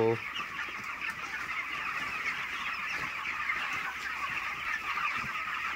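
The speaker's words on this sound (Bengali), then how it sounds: "আমি মুরগি চাষ করি, আমার মুরগিগুলো কত সুন্দর দেখো।" A flock of broiler chickens clucks and chatters continuously nearby, a busy overlapping murmur of many birds with an occasional louder squawk.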